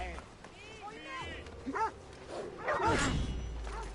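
A dog barks and yips in Assassin's Creed Odyssey as a mercenary arrives with it, with short, close barks mixed in among voices talking.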